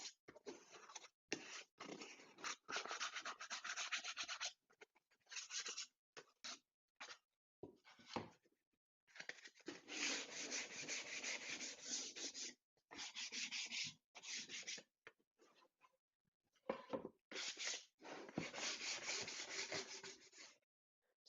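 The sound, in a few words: sandpaper smoothing edges of plywood pieces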